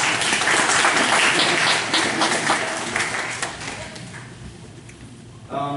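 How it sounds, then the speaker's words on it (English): A church congregation gives a strong round of applause for ministry volunteers, loud, dense clapping that gradually fades, with voices rising through it and a brief sharp sound right at the end. "Y'all please give them another round of applause."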